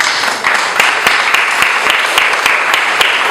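A congregation in church claps loudly and continuously, a dense wash of applause with sharp individual claps popping out in a fairly regular rhythm.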